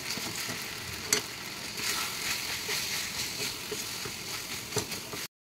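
Boiled, smashed potatoes stirred into sizzling masala in a pan for Kolhapuri-style vada pav, a steady close frying hiss with occasional spoon scrapes and knocks throughout.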